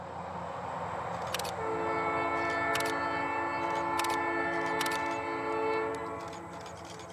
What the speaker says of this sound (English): the train crosses the small road almost a half mile away from our post